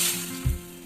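Potatoes frying in a little oil in a pan with cumin, a steady close sizzle with a brief low thump of stirring midway, no voices.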